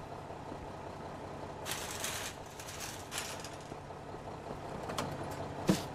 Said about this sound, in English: Sounds like we got a truck here.